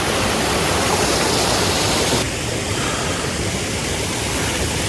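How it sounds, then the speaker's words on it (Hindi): A Himalayan waterfall in Pahalgam, Kashmir, roars as a dense, continuous rush of falling water, loud and close throughout, easing slightly halfway through. "I am finally at the waterfall"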